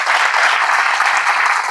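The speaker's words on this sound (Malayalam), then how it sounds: "നല്ലൊരു കൈയടി." Sustained audience applause fills a hall at a business owners' motivational talk for BNI Malappuram, a dense, steady clatter of many hands held at an even level throughout without voices.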